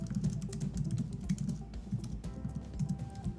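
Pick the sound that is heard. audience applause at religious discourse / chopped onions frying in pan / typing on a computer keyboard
typing on a computer keyboard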